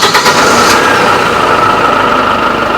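A loud van engine starts close by, settling into a steady high-pitched idle hum after a brief rougher start.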